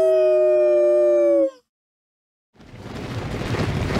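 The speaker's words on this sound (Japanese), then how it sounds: "遠吠えが聞こえた気がするんだが気のせいか" A creature howls in the Konosuba Fantastic Days video game with one long, loud, tonal call that stops abruptly. A short silence follows, then a rushing, rumbling noise builds up.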